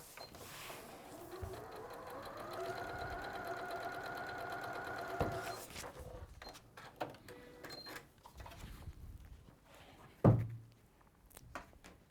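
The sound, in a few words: sewing machine sewing down the join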